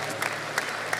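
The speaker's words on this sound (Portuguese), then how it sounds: "aplaudindo a Jesus, porque Ele é bom" A church congregation claps at a worship service, steady dense applause with a few louder claps poking through, filling the room.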